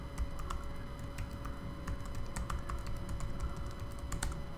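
Computer keyboard typing as a password is entered on a FreeBSD system, with quick irregular key clicks close by over a low steady hum.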